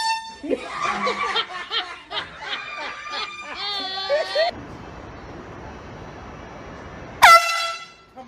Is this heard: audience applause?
no